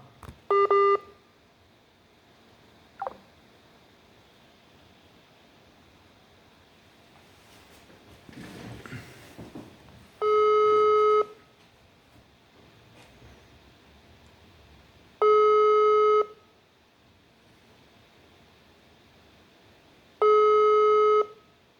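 A WhatsApp call tone repeats as a call is placed again, short steady electronic beeps about every five seconds with quiet gaps and faint rustling between.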